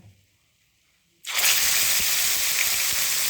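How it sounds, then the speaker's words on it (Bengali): Tomato paste is dropped into hot oil in a kadai, cutting a quiet pause with a sudden loud, steady hiss of sizzling that stays close and continuous to the end, with faint crackles underneath. "প্রথমে আমি কড়াইতে দিচ্ছি হচ্ছে টমেটো বাটা।"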